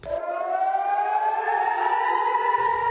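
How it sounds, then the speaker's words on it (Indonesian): An air raid siren wails steadily with a slowly rising tone, loud and sustained throughout, sounding during a drone attack on Israel. "tak lama sirine serangan pun berbunyi"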